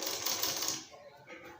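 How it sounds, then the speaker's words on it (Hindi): A sewing machine runs a short burst of rapid stitching along the edge of a buckram collar. The whirring is brief and fairly quiet, and it fades off after about a second. "किनारे की सिलाई लगाएं ऐसे"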